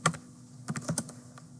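Typing on a computer keyboard while writing a Linux Bash script, a short run of a few close, crisp key clicks in quick, uneven succession, with no talk.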